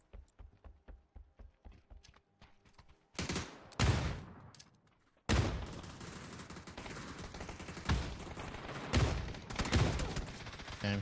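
Submachine gun fire in the Star Wars Battlefront II video game, sharp broadband bursts and a dense clatter of gunfire after a lighter tapping opening, loud and continuous toward the end with no talk.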